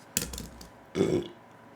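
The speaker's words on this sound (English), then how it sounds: "Excuse me, another burp." Person burping, a short clicky throat noise followed by a fuller, deeper belch about a second later, close and fairly loud with no talk.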